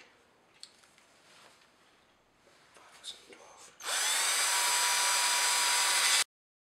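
A drill boring out a broken exhaust stud on a Porsche 911, a loud steady high whine starting abruptly after a few quiet seconds of faint shuffling and clicks, then cutting off sharply.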